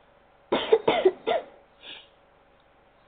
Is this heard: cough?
yes